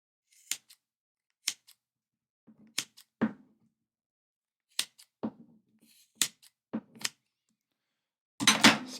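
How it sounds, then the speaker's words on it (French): Scissors trim the end of a 13mm double-braid rope at an angle, giving a series of short, crisp snips spaced irregularly in near silence, ending with a louder, longer rustling crunch. "Et on réduit en angle avec les ciseaux."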